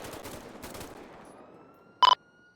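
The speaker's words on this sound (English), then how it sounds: "Dispatch, we have 2 shots fired." Two rapid gunshots ring out in a night warrant scene in the LSPDFR police mod, a brief loud double burst following scattered, muffled background noise.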